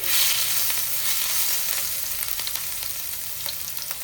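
Ginger garlic chili paste sizzles and fries steadily in hot oil in a pan, a dense continuous crackle that stays close and fairly loud throughout, with no talking.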